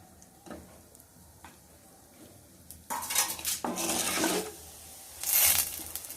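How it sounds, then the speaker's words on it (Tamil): Urad dal and chana dal roast in a pan, first with light scattered clinks, then bursts of loud rattling and scraping as the lentils are stirred. No one speaks. "அதுக்கு இந்த உளுத்தம்பருப்பு, கடலைப்பருப்பை நம்ம வறுத்து எடுத்துக்கலாம்."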